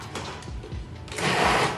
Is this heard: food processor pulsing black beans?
yes